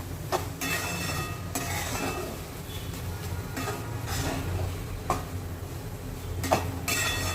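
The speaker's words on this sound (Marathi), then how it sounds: "मस्त साय मिक्स करून घेऊया" Cream stirred into grated carrot halwa in a pan, giving a continuous close scraping rumble with periodic sharper metallic clinks of the spoon against the pan, and no speech.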